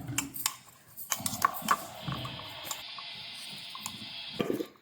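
Omelette eggs mixed with onion, green chillies, salt and turmeric in a bowl give close, rapid clinks and scrapes of a utensil against the bowl, in irregular bursts with a brief lull and a steadier swishing passage.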